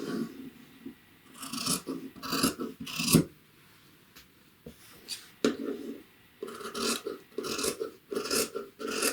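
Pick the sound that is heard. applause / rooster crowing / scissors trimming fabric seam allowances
scissors trimming fabric seam allowances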